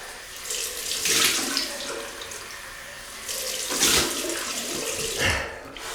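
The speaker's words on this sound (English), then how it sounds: "Cold water rinse." Cold water runs from a tap into a sink during a rinse after shaving, a continuous splashing stream that surges in three louder bursts as hands move through it, with no talk.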